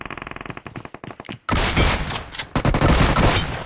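PUBG Mobile gunfire starts as a quick run of separate sharp shots, then breaks into loud, dense bursts of rapid fire that crackle on without a break.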